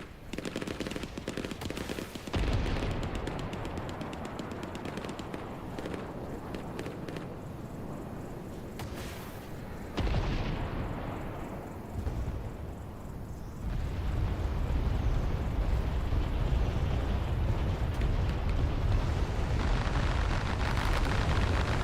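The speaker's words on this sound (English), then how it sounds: "Looks like a bombing run's been called in." Bombing run in the Vietnam war game Hell Let Loose, heard as a sustained roar of heavy explosions and rumbling blasts mixed with rapid gunfire, loud and continuous, swelling in waves with no voices.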